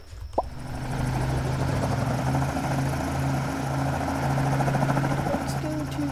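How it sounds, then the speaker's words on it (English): A video game helicopter's rotor thrums steadily at close range, a continuous whirring drone with a small pop near the start. "Alright, helicopter."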